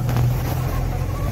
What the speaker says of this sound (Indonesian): Lepaskan kopling, injak gas.